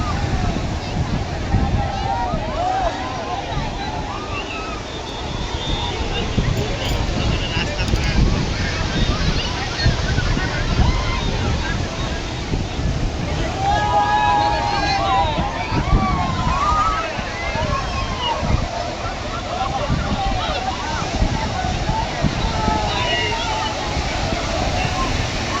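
Sea waves at high tide wash onto a crowded beach, a constant loud roar and slosh with wind buffeting the microphone, while people talk over it.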